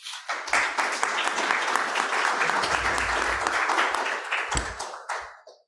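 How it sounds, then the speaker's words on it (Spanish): Steady, close applause fills a medical congress hall as the audience welcomes a speaker, a dense wash of many hands clapping that fades out at the end. "Lo recibimos con un aplauso."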